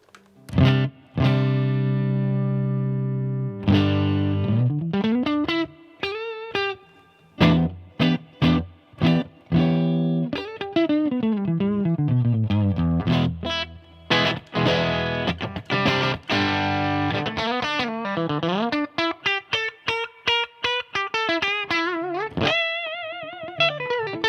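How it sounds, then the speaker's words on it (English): Electric guitar played through the reverb of a BluGuitar Amp 1 pedal-sized amplifier: plucked notes, bends and chords ring out with a lingering wash of reverb, loud and continuous. "it also has a reverb, so we'll just check out how that sounds"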